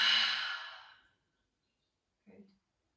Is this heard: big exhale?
yes